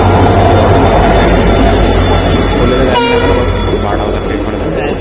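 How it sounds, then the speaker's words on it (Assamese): At night, a train thunders through Udalguri station close by with a loud, steady rolling roar, and its horn blasts briefly partway through before the rumble eases slightly toward the end. "সেইফালে দূৰত পৰা পূৰা হৰ্ণটো বাজি আহি আছে"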